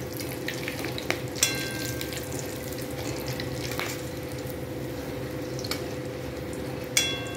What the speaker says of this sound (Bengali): তেলের মধ্যে আমি লবঙ্গ, এলাচ, তেজপাতা আর একটা শুকনো লঙ্কা ফোড়ন দিই।